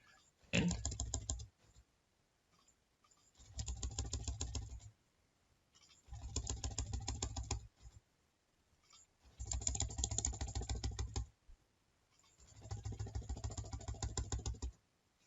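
Bursts of rapid typing on a computer keyboard come in five separate runs of a second or two each, with short quiet pauses between them, close and fairly soft, no speech.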